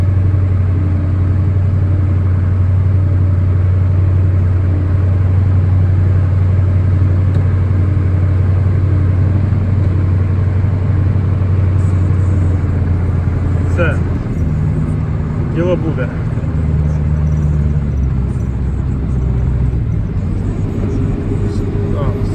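A 243-horsepower combine harvester working a sunflower field drives off with a loud, steady low engine drone close by. Its pitch shifts partway through as it moves away.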